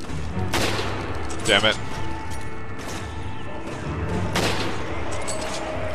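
Sniper rifle fire in the co-op video game Resident Evil 5, several loud sharp shots at irregular intervals over game sounds, with a player's voice briefly speaking.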